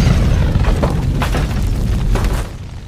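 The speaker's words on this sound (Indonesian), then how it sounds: "Piper berhasil menembak salah satu anak buah si Jonah walaupun dirinya harus terhempas oleh dahsyatnya senjata tersebut." A powerful gun in an action film fires an explosive blast, a loud booming burst with rumbling, crashing debris that fades out over a few seconds, with no talking.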